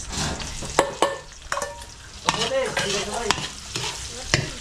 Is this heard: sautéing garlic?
yes